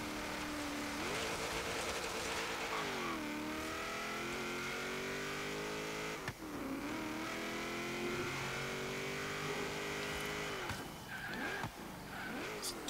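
A 1973 Ford XB Falcon GT in Forza Horizon 3 revs loud and sustained on an autocross course, its engine pitch climbing and dropping through repeated gear changes, with brief tire noise.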